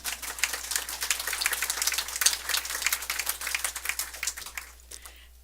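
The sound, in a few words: applause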